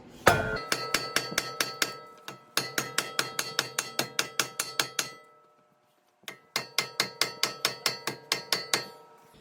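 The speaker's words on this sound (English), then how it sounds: "So the first thing I'm going to try is a dead blow hammer. Let's give this a couple whacks" Three rapid runs of dead blow hammer blows strike a Jeep Wrangler JK front axle spindle with sharp ringing whacks, about a dozen hits per run, separated by short pauses.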